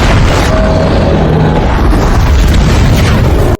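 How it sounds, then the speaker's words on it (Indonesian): A loud, sustained explosive roar from the film Final Destination Bloodline fills the whole stretch, dense and rumbling, then cuts off abruptly at the end. "Ledakan itu membuat Stephanie terjebak"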